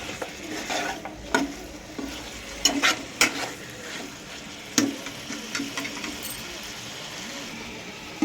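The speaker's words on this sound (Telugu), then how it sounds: "బాగా కలుపుకోవాలి వేగేదాకా. చికెన్ అప్పుడే మనకి బాగా వేగుతుంది." Chicken coated in masala sizzles in oil for a Telangana-style curry while a spatula stirs it, with repeated scraping strokes against the pan over a constant frying hiss.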